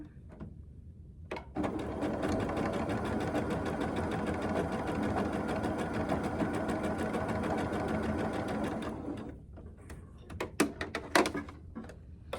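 A sewing machine stitches along the edge of a quilt block in one steady, loud run of about seven seconds, followed by a few clicks and handling knocks as the fabric is adjusted.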